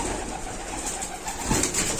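A pigeon coos in a loft, a short low throaty call rising near the end over faint background hum, close by and alone.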